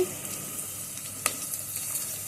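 Drumstick (moringa) pods for sambar fry in a pan with a steady, close sizzle, broken by a light clatter of stirring and a brief sharp crackle.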